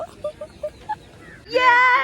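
A male peacock lets out a loud, close, drawn-out call after a few short soft chirps.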